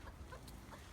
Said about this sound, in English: The chicken's being chased off back to her nest.